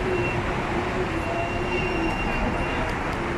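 Dubai Metro train running steadily and loudly throughout, a continuous rumbling roar with a faint high squeal, heard from on board or up close, with no break in the noise.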